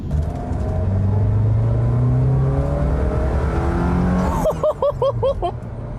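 A Porsche 944 S2 accelerates away, its engine rumbling loudly with rising revs and gear changes, pulling into the distance as the sound thins out, followed near the end by a short burst of chirping tones.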